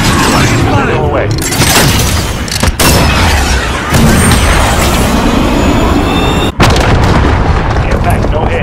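Artillery strikes in Call of Duty: Modern Warfare, with loud booming explosions and gunfire cracking repeatedly in quick succession, close and dense, with brief gaps between blasts.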